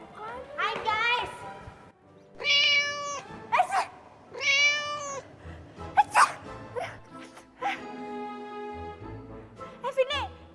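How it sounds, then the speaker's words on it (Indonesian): A cat meows several times in a sitcom scene, its drawn-out calls alternating with a child's and adults' speech, fairly close and clear. "itu kucing ya?"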